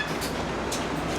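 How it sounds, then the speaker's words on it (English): A Hong Kong double-decker tram rumbles along its track, a steady close-up roar of wheels and car body with faint rattles and no voices. "You get on the tram"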